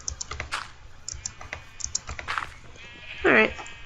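Sheep bleating at a sheep farm in a Minecraft-style castle-building game, one clear bleat near the end over quick keyboard typing and clicking, with a few other faint bleats earlier.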